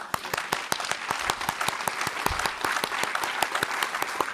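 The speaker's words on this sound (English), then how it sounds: "I just want to give an applause to Hari Sharma" An audience applauds at an evening arts panel on culture and the graphic novel, steady dense clapping filling the room for several seconds with no voices over it.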